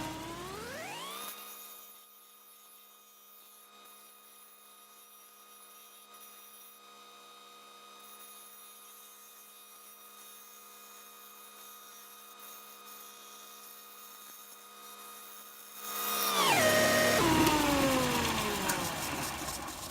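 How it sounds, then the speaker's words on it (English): A small belt and disc sander combo runs as a steady, droning whine while finishing the radius on a metal bracket for a dune buggy, then grows louder and rougher near the end as the workpiece is pressed in. "we have a little belt sander, disc sander combo to finish it up"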